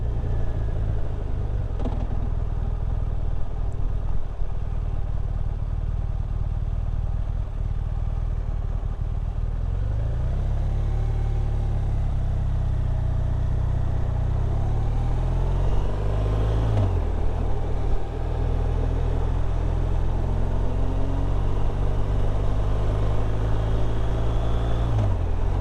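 A BMW motorcycle eases down toward red traffic lights, its engine note dropping through gear changes with rising and falling revs, steady rumble and road noise throughout, nearby and fairly loud, no voices.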